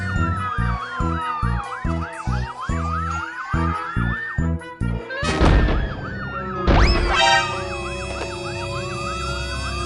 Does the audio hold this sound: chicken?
no